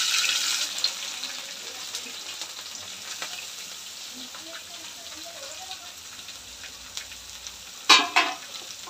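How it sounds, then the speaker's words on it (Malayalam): Onion, carrot, capsicum, green chili and peas fry in oil in an uruli, a steady close sizzle running throughout, with a couple of sharper clatters of stirring near the end. "ഞാൻ ഉരുളി വെച്ച് ഇച്ചിരി ഓയിൽ ഒഴിച്ചിട്ടതിന് ശേഷം സവാള, ഇച്ചിരി ക്യാരറ്റ്, ക്യാപ്സിക്കം, പച്ചമുളക്, മട്ടർ ഇതെല്ലാം ഒന്ന് ഇട്ട് കൊടുത്തിട്ടുണ്ട്"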